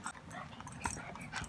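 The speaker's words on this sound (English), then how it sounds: "they're really, really good looking dogs" A dog whimpers softly in a few short, faint yips and whines, heard up close with no talking over it.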